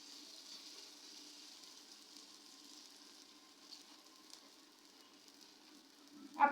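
Batter hitting oil in a pan, a soft continuous sizzle that stays faint and steady, then swells into a louder crackling burst at the very end, with no talking.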